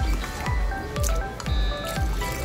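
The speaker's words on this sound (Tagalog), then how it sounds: "dagdagan lang po natin ng konting tubig" Wet squishing and sloshing as water is poured and stirred into a pot of mung beans, with rhythmic scraping strokes.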